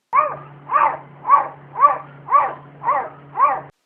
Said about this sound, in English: the cat is barking